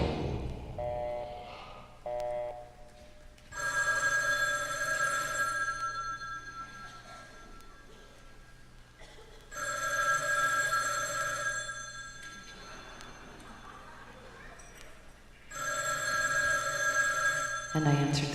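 An electronic telephone ringing in a live performance, three long bright tonal bursts separated by pauses over a low sustained drone, clear and prominent with no speech.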